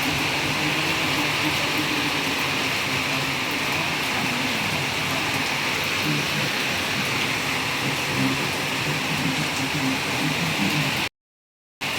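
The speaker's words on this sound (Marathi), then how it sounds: "पाऊस बघू शकता तुम्ही किती जोराचा येतो" Heavy monsoon rain pours down in a dense, continuous hiss, steady and loud for many seconds before cutting off abruptly.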